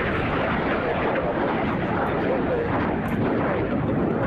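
An F-86 Sabre jet fighter flying at an airshow makes a loud, continuous broadband roar that holds steady throughout with no breaks.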